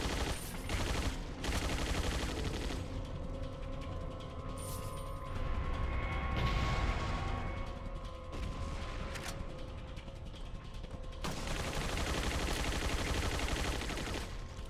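Rapid bursts of mechanical turret gunfire in the video game Resident Evil 4: Separate Ways clatter continuously over a dense, noisy background, with brief lulls before the firing picks up again.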